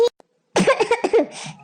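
A woman in a Hindi comedy sketch gives a short cough, then after a brief pause a longer, close, rasping burst of coughing and hacking.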